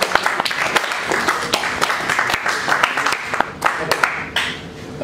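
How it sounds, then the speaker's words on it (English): A class clapping for a student in a calculus recitation session, with scattered, uneven claps from a modest group that rise and fade over a few seconds, close by and slightly roomy. "Clapping for Adiba."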